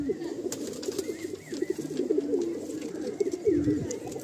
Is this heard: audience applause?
no